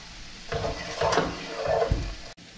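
A stir fry with sliced purple onion, chopped ginger and pepper sizzles in a pan. Bursts of hissing frying swell and fade as it is stirred, close and moderately loud, ending in a brief cut-off.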